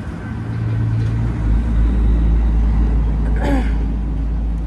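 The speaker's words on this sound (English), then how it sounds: "there's a truck going by" A truck passes outside, a low steady rumble that swells and holds loud throughout, with a brief brake hiss or squeal near the end.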